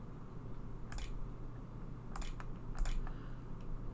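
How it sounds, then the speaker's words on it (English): Soft tapping on a touchscreen keyboard, a few quick, faint clicks in short clusters over a quiet, humming room. "The typing on a screen keyboard."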